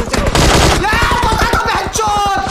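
Rapid automatic gunfire in the video game PUBG Mobile, loud and close, sustained bursts of fast shots rattling almost without pause across the whole stretch, with no talking.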